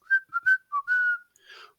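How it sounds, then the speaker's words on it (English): A man whistles a short tune nearby, several quick bright notes followed by a longer held note and a softer trailing phrase, alone without talk. "Dad went on whistling."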